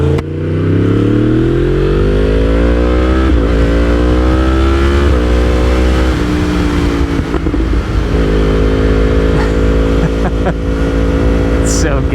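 Yamaha R1M sport motorcycle ridden hard, its engine loud and close, revving up through rising pitches with quick drops at each gear shift, a continuous high-revving roar.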